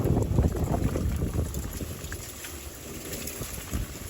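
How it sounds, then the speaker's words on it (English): Engine oil from a 2024 Hyundai Elantra 2.0 drains into a catch container, a steady liquid trickle and gurgle that stays continuous and fairly close throughout, with no talking. "We're going to let that drain out."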